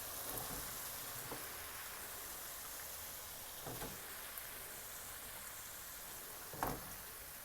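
Fried chicken pieces stirred into a steady sizzling masala in a pan, a continuous even frying hiss with a few soft scraping stirs and one sharper clatter near the end.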